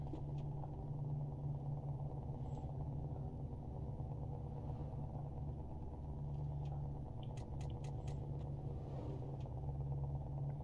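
A V8 truck cruising steadily in twelfth gear at about 89 km/h in Euro Truck Simulator 2, windows up, gives a low, even engine drone with a constant hum. It stays quiet and unchanging throughout, with faint clicks near the end.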